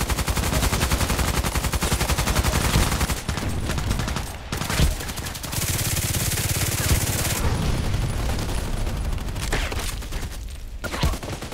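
SCAR-L rifle fire in a video game: dense, loud automatic bursts rattle almost continuously, with brief pauses between the strings of rapid shots.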